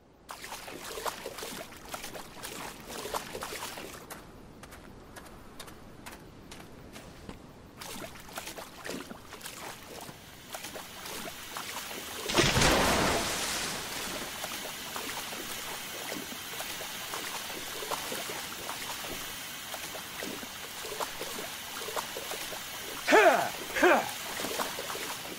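In the Silent Hill Downpour game, a character sloshes through freezing water in a steady run of splashes and trickling, with a louder surge midway and occasional distant voices.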